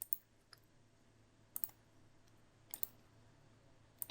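Faint, crisp mouse clicks on an on-screen button in exam software, several single and double clicks spaced over a quiet background.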